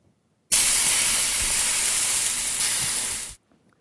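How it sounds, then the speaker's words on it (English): Steak cooking in a lab cooker, a sudden loud burst of sizzling hiss that holds steadily for about three seconds, then cuts off sharply into quiet. "So the steak sizzles and cooks."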